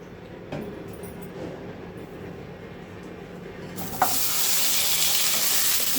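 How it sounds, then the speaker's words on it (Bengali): Potatoes and eggplant hit a little oil in a wok with a sudden loud sizzle that keeps up as a steady hiss; before it, only a faint background hum can be heard. "এবার আমি কড়াইতে সামান্য তেল দিয়ে আলু আর বেগুনটা ভেজে নেব"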